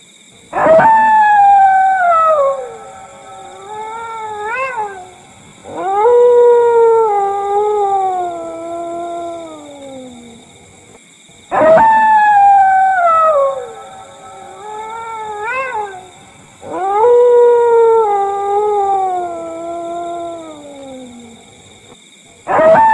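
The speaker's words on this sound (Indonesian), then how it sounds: "Seperti apa cuplikan lolongan anjing tersebut?" A dog howls in long, drawn-out, wavering cries that slide downward, repeated four times with short pauses between them, loud and close with no talking.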